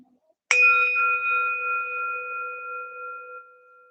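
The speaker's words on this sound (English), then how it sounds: "let's start with a bell and a bow." A single clear meditation bell is struck once and rings out with a pure, sustained tone that slowly fades in a quiet room.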